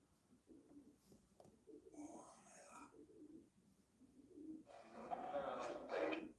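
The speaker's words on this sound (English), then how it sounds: "That's a pigeon, isn't it?" A pigeon coos softly outdoors in a few low, rolling phrases, faint and somewhat distant, while people murmur and whisper quietly nearby.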